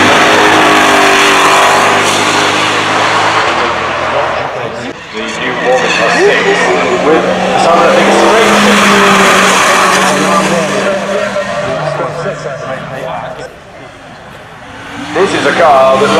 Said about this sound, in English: This is a car that rattled up the hill earlier.